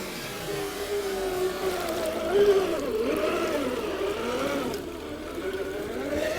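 An RC truck driving through mud, its electric motor whining at a wavering pitch that rises and falls with the throttle, close and moderately loud with no other sounds.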